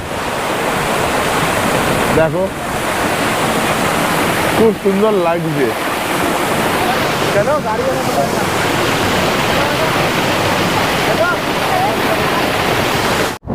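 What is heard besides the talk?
Seven Sisters Waterfall flowing, North Sikkim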